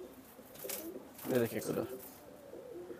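Pigeons of the Dubwale and kamagar kabutar breeds coo softly and close by while someone talks over them.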